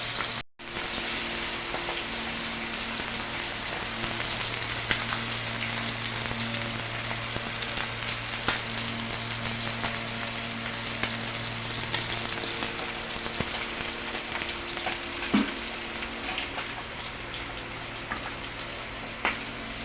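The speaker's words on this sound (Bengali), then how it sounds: "এখানে এটা ঝোলের জন্য ভেজে নিচ্ছি বন্ধুরা, এই মাছটা, ইলিশ মাছটা।" Hilsa fish frying in oil gives a steady, moderate sizzle with fine crackling pops, continuous and alone over a low background hum.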